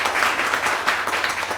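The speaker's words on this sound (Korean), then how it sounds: "박수 한번 부탁드리겠습니다" Brief burst of steady audience applause at a coaching talk, many hands clapping together in a room, dense and even from start to finish.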